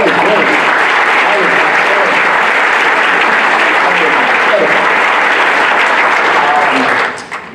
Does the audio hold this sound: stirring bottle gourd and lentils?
no